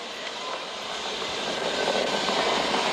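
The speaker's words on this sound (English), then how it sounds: "We're throttling back up to full power as we're through max Q." Falcon 9 rocket engines at launch make a steady, dense broadband roar that grows slightly louder over a few seconds, heard from a distance with no voices.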